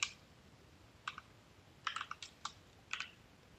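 Light keystrokes on a computer keyboard, a handful of quiet, sparse clicks in small clusters against a faint room hiss.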